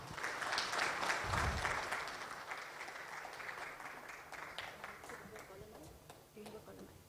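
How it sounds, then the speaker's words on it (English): An audience at a leadership lecture in Pakistan claps steadily, strongest at the start and gradually thinning out over several seconds. "let's give a round of applause to the man of the moment"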